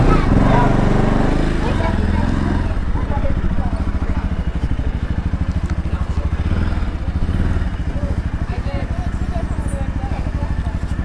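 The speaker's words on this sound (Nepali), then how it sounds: "बाइक घुमाउँछ" A motorbike engine runs steadily with a low, pulsing throb while being ridden around, loud and close throughout, with some clatter and rough mechanical texture over the revving.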